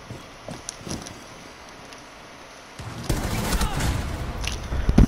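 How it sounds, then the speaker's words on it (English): Rapid gunfire tears through walls in Rainbow Six Siege. The shots are sparse and muffled at first, then become a loud, dense burst of automatic fire in the second half. "you can shoot through walls"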